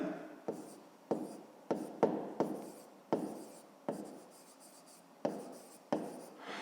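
A pen scratches across paper in a fifth-grade math exercise, a series of short close strokes with brief pauses between them, quiet and alone.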